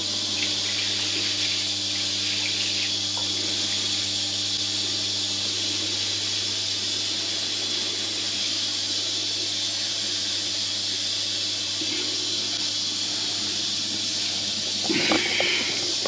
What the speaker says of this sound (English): I'm just going to give this a quick rinse, and I think this should now be unblocked.